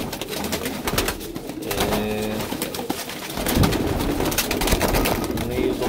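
Pigeons cooing nearby in repeated low, throaty calls, with flapping and rustling and a voice talking intermittently underneath.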